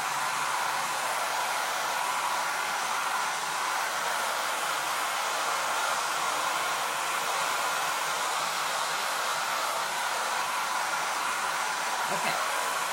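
A hair dryer blows steadily and loudly for about thirteen seconds, drying fresh paint on an old TV tray being upcycled, with an unbroken airy roar and no other sounds.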